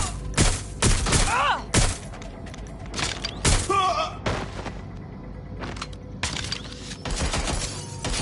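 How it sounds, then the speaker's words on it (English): Bursts of gunfire crack through a Watch Dogs Legion firefight, loud shots and impacts in clusters with whooshing effects between them and no voices. "Landing the shots! Suspect is open fire!"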